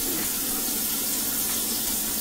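Tap water runs steadily into a cooking pot while dinner is prepared, a continuous close hiss and gush with no talk over it.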